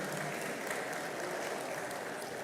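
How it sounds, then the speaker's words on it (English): Steady, dense applause from a large audience at an executive programme graduation ceremony in Lagos, continuous clapping filling the room at an even level throughout, without any speech. "A round of applause for him."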